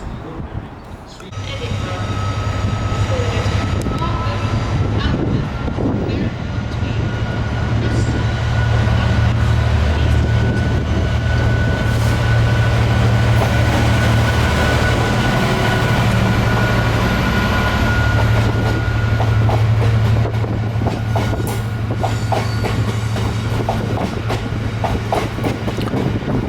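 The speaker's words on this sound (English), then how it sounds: "And a loaded train heading for the power station." A heavy loaded freight train bound for a power station rumbles past close by in windy Newcastle, wheels clattering rhythmically over rail joints with a low, sustained roar that stays loud throughout.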